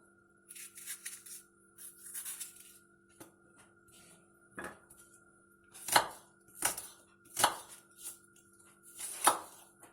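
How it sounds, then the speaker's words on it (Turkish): Knife chopping onions on a board: light scattered cuts at first, then several sharp, evenly spaced chops growing louder, close up, without speech. "şimdi soğanımızı doğrayalım"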